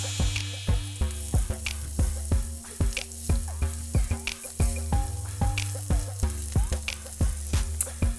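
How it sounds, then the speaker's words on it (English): Onion, garlic and jalapeno sizzle steadily in a hot pan, a close continuous crackle with periodic sharp taps of a utensil stirring against the pan. "So let's add in our garlic and our jalapeno. And let this cook for a couple minutes."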